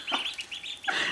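A hen gives a high, squeaky, duck-like call, two or three short strained bursts close to the ear with brief gaps between them, clear against a quiet background.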